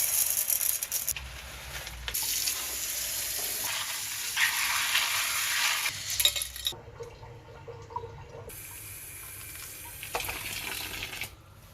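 LECA clay pebbles of medium size being washed and rinsed, water sloshing and the pebbles rattling and crunching together in long bursts, near and steady with brief pauses, no talking.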